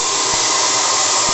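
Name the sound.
gas burner of a model steam boat boiler relighting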